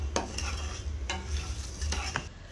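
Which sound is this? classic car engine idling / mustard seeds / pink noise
mustard seeds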